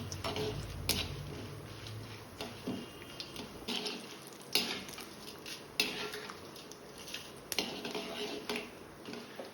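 Mustard seeds, gram dal and urad dal tempering in oil and ghee in a kadai, quiet crackling and sizzling under repeated metal spoon clinks and pan knocks, close and fairly faint, with no talking.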